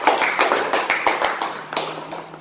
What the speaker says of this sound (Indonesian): tepuk tangan untuk kelompok pemula